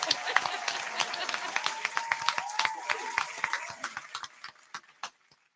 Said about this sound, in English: I'm gonna go ahead and clap for y'all.